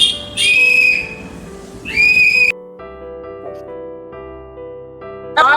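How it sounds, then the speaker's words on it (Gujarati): A boy from the house across the street whistles two loud, shrill, sustained blasts, with a third starting at the very end; soft music plays in the gaps between them. "સામે વાળા ઘરનો છોકરો સીટી મારે છે"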